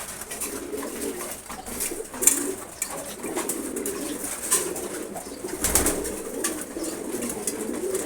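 Male pigeons of racer and giribaz breeds coo softly and repeatedly while feeding, close by, over a low background murmur with a few sharper accents.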